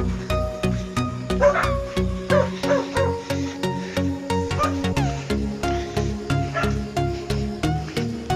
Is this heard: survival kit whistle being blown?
no